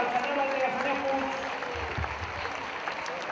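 Applause ripples through the crowd at a youth football match medal ceremony, a steady moderate clapping that continues under an announcer's voice.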